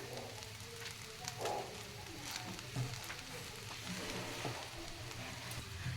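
Fried rice with egg, paneer and spring onion stirred in a hot pan, a steady low sizzle with soft intermittent scraping, fairly quiet and with no talking.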